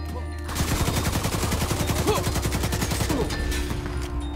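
Rapid automatic gunfire in The Division 2 as a player shoots from the hip, a loud, dense, steady stream of shots that starts abruptly and runs for several seconds, with a voice speaking faintly beneath it.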